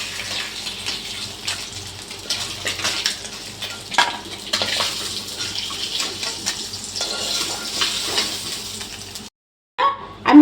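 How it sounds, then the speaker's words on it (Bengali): Pieces of rohu fish fry in hot oil with a continuous close hiss, broken by irregular clatters of a utensil against the pan. The sound stops briefly near the end before a short bump returns. "মাছটা আমি দেখুন এই যে ভেজে ভেজে উঠিয়ে নিচ্ছি।"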